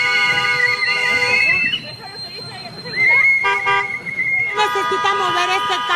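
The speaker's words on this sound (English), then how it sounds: "I guess you're going to hear some honking" Several car horns honk loudly on a city street in New Orleans, long sustained toots and overlapping blasts coming in bursts amid traffic and crowd babble, with voices in the background.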